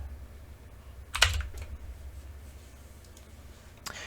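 Quiet keystrokes on a computer keyboard while typing a line of C++ code, with a brief burst of clicks and a lone later tap over faint background hiss.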